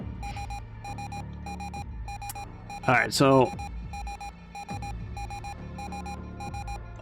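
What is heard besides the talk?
docking alarm beeping in video game Ostranauts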